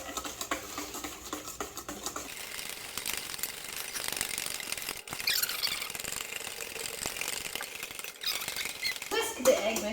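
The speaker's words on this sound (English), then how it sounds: "I'm going to keep on whisking and add the hot lemon juice, a tablespoon at a time, to temper the eggs." Eggs whisked steadily in a bowl while hot lemon juice is added a tablespoon at a time to temper them, a busy scratchy clatter of whisk strokes close up, irregular and fairly quiet.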